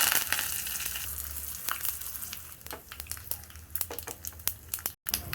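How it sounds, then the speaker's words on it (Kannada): Mustard seeds, cumin, asafoetida, dried red chilli and curry leaves spluttering in two spoons of hot oil in a small tempering pan for cucumber hasi give dense, close crackling with sharp pops throughout, and no voices. "ಈಗ ಒಂದು ಒಗ್ಗರಣೆ ಪಾತ್ರೆ ಇಟ್ಟು ಒಂದು 2 ಸ್ಪೂನ್ ಎಣ್ಣೆ ಹಾಕ್ತೀನಿ"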